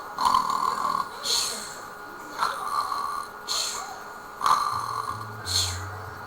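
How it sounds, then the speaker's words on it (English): A man snores loudly on purpose, four or five rough, rattling snore bursts spaced about a second apart, each with a breathy snort, close to the microphone. "He snores really loud like this."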